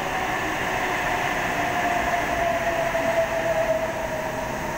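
An electric passenger train, an Oscar H26 set on a Hornsby service, rumbles steadily into Wynyard station, a continuous broad roar with a faint drawn-out squeal of wheels running through it.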